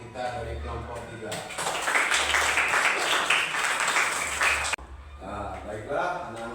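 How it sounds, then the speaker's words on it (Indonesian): Classmates in a school lesson applaud a group of pupils, a steady mid-level patter of many hands lasting several seconds. Spoken voices come before it, and one voice speaks again after the clapping suddenly stops. "Beri tepuk tangan untuk teman kita dari kelompok 3"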